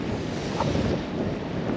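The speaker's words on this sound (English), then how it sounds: "It's like really windy." Strong wind buffeting the microphone while fishing, a loud, continuous roar with a faint wash of water underneath.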